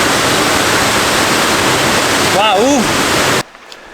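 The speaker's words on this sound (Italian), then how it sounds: "adesso ritorno alla cascata" A waterfall in Val Zemola near Erto pours out a steady, loud, rushing roar that fills about three and a half seconds before cutting off sharply. A brief voice rises over it near the end.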